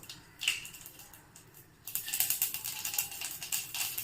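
Tempering seeds sizzle and pop in a tablespoon of hot oil in a pan on the stove, a dense, steady crackle that starts abruptly and keeps spluttering loudly up close.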